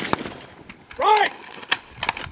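Carbine gunshots fired during a shooting drill, a few sharp reports scattered across the moment with a shouted command in between, close and loud.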